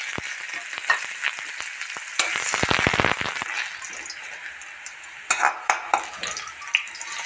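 Onions fry in hot oil in a wok with a steady crackling sizzle, punctuated by sharp scrapes and clinks from a stirring utensil that grow busier in short bursts.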